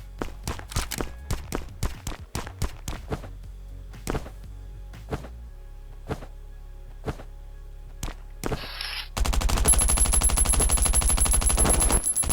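Gunfire in the video game Last Island of Survival: a series of sharp single shots at uneven intervals, then a sustained rapid automatic burst at the end, with no talking.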